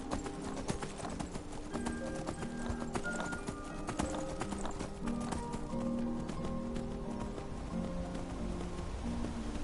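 Horse hooves clip-clopping in a rhythmic trot across the ground in Skyrim Anniversary Edition, steady and continuous at a modest level, with faint ambient rain and game sounds beneath.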